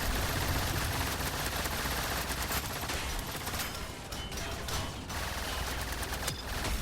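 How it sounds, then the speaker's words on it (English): Machine guns firing in the Trailmakers video game, a dense, continuous rattle of rapid shots with a dip in loudness midway, steady and unbroken, no voices. "Okay, then just use the machine guns to get rid of them."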